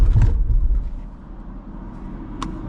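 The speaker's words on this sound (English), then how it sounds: "and the car turned off" A manual BMW M3 engine rumbles close by, then shudders and dies as the car comes to a stop with the clutch not pressed, leaving a faint low hum.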